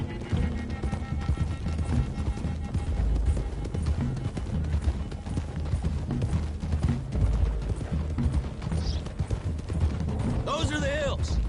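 Horses gallop in Red Dead Redemption 2, a steady clip-clop of hooves running beneath a dense bed of game music and ambience, with voices talking over it throughout.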